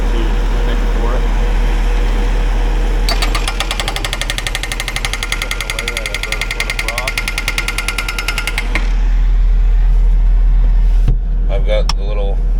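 Small skid steer track loader idling on a frosty dirt-moving construction site, a steady low engine drone overlaid for several seconds by rapid, loud mechanical hammering, with a sharp clank near the end.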